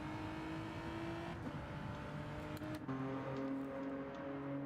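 Race car engine of a Lightning Motorsports Genesis at Fuji Raceway, heard on board: a steady loud drone with shifting pitch, a brief dip and gear change near the middle, then a higher sustained note.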